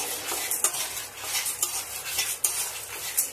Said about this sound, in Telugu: సిమ్లో పెట్టుకొని మనము మంచి ఫ్రై చేసుకోవాలి